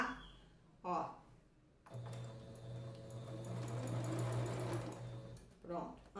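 Sewing machine stitches a Christmas tricoline fabric rug with a steady, close motor whir running for several seconds, bracketed by brief talk before and after.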